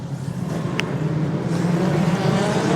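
Compact speedcars racing at ACT Speedway, engines droning steadily with a continuous roar throughout, likely several cars on track together at a loud, even level.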